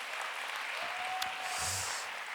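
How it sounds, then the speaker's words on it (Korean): A church congregation of young adults claps together, a steady even wash of applause at moderate distance, with a faint tonal whine and some low murmuring underneath. "네, 우리 박수 한번 줍시다."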